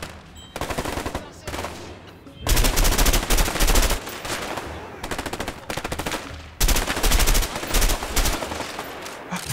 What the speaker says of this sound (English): Fucking hell, I'm shooting him.